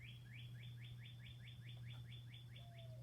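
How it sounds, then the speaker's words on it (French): A bird repeats a rapid series of short, rising chirps in a steady rhythm, fairly faint, over a constant low hum. "C'est l'oiseau qui chante."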